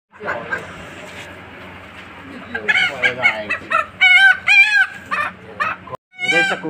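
Chickens clucking and a rooster crowing at a chicken market, the bird calls rising loud and repeated among busy crowd noise while people talk throughout.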